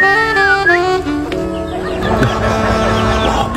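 Several chickens cluck loudly and close by, with a rooster-like call rising early on, the clucking continuing steadily throughout.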